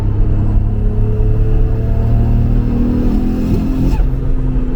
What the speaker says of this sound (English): a modified engine's at high RPM